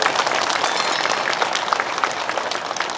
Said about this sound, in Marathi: त्यांच्यासाठी दोघांसाठी एकदा टाळ्या वाजवा जोरदार